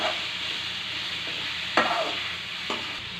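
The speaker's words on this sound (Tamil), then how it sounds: "இது இடையிடையாக நீங்கள் ஓப்பன் பண்ணி கிளறி கொடுக்கணும்" Drumstick leaf stir-fry being stirred in a pan, a soft continuous sizzle with a couple of sharp scraping knocks of the spoon against the pan, fairly quiet.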